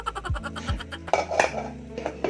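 A spoon clinks and scrapes against a dish while rice is mixed, close and quiet, with a quick run of light taps followed by heavier knocks and scraping.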